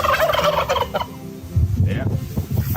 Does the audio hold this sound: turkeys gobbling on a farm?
yes